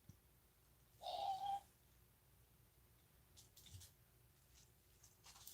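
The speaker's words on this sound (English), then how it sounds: "Did y'all hear my bird?" An indoor pet bird gives one short, clear call early on, standing out briefly over a quiet room with faint low background hum and a few soft rustles afterward.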